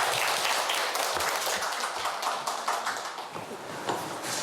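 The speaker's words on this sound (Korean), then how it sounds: "박수 부탁드립니다" Audience applause at a university lecture on local autonomy, steady dense clapping from a seated crowd filling the whole stretch, moderately distant and even.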